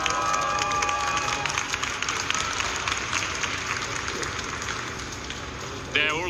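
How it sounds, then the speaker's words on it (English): The venue crowd at a regional gaming tournament in Bologna, Italy breaks into sustained cheering and applause, a dense roar of many voices and clapping that fills the whole stretch before a sharp sound at the end. "Let's have one more cheer, everybody."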